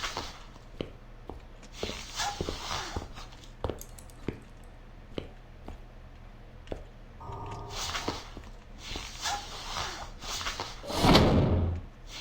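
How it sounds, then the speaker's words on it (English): A door closes in the video game One More Night with a solid slam late on, after scattered soft thumps, clicks and footstep-like knocks in a quiet room. "I don't know why I closed that door."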